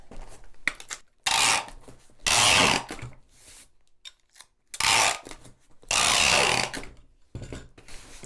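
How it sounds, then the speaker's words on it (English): Packing tape being pulled off the roll and pressed across a cardboard box holding a stack of tabletop roleplaying books, four loud close rasping tape screeches of about a second each, separated by quieter rubbing and handling. "we shall tape it shut"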